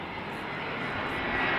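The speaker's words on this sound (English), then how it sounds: "First airplane to arrive is an A320 from EasyJet arriving from Manchester." An EasyJet Airbus A320 arriving from Manchester approaches to land at Amsterdam Schiphol on a summer evening, its jet engines a steady, broad distant roar that swells slightly toward the end.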